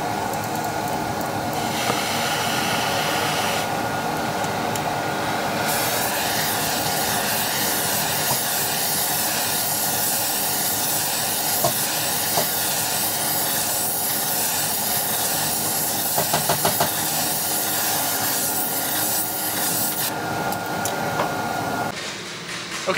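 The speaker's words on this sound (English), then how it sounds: "I get to play with a little bit of fire, and I'm gonna heat this ring up until it's nice and hot, expand it off the crank" A torch flame roars steadily as it heats a ring on an LS3 stroker crankshaft in an engine shop, a continuous loud hiss lasting throughout with a few brief clicks and shifts in tone, no talking.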